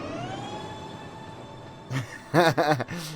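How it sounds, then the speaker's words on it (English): Trains racing past in the video game Transport Fever, a steady rising whine that gives way to several loud whooshing passes in quick succession near the end. "A ground level shot of all the trains going past"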